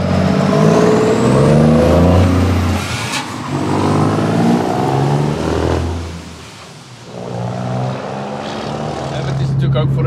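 A custom-built Scania truck on a European road trip drives with a loud, deep engine drone that rises and falls as it shifts and accelerates. Voices talk at points over the engine.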